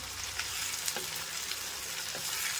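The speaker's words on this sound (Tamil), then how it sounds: "வெங்காயம் போட்டு நல்லா வதக்குங்க கூடவே நல்லா ஒரு கருவேப்பிலை போட்டுக்கணும்" Small onions and curry leaves sautéing in a pan, with a steady close sizzle and a few light scrapes and stirs, no voices over it.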